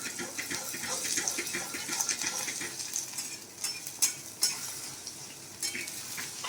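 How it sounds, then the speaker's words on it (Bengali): Four eggs fry in a hot wok and are stirred and scrambled, giving a steady sizzle while a utensil scrapes and taps against the pan in irregular bursts. "ডিমগুলো ঝুড়ো ঝুড়ো করে ভেজে নিই"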